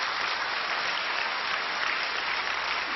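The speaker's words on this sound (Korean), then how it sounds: "우리 하나님께 감사의 박수를 올려 돌리십시다." A church congregation claps in thanks after a sermon, a thick, even wash of applause that holds steady from start to end without pause or voices.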